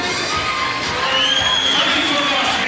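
A large boxing crowd roars and cheers steadily after the result of a heavyweight title fight, a dense, loud wall of shouting and whoops with no break.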